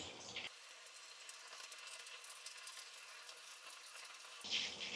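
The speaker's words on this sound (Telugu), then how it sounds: "వీటిని అటు ఇటు తిప్పుకుంటా ఫ్రై చేసుకోవాలి" Semiya-coated chicken sticks frying in oil on a low flame, a faint, steady hiss and crackle of sizzling that runs evenly throughout with no talking.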